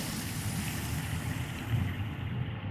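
Water rushes and floods in during the video game A Fisherman's Tale, a steady, dense wash of surging water and low churning, continuous and fairly close, with the highs dropping away near the end.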